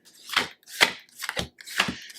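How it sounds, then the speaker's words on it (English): Tarot cards shuffled in sets of four, giving four crisp, quiet riffling bursts at an even pace, close up, with no talk. "I feel like I want to shuffle in fours"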